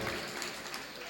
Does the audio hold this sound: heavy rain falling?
no